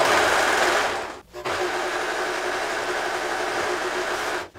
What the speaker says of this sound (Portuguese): Então vou passar aqui no overlock também a cava.